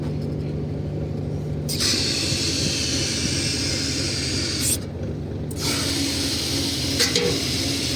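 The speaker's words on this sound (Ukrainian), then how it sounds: "так робить шнек, ну половинка шнека" A grain winnowing machine cleaning seed wheat runs with its auger turning, giving a steady, dense mechanical rumble and rattle that holds nearly constant throughout, close and fairly loud.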